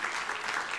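A brief burst of congregation applause in a church service, dense continuous clapping from many people heard for under a second.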